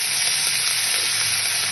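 Sweet potatoes and spices, with slit green chillies, sizzle steadily in a pan as they are stirred, a dense continuous frying hiss close up and fairly loud throughout.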